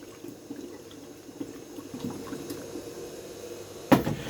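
Herbal tincture is poured into the top of a bottle, a soft, steady liquid trickle at close range, ending in a brief sharp clink near the end.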